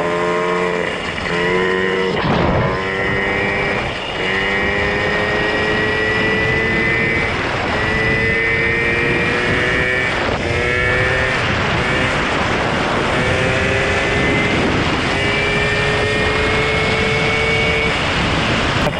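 A carbureted engine revs hard under full load while climbing a slope, its loud, continuous drone rising and falling in pitch through repeated surges, close and steady with no talk.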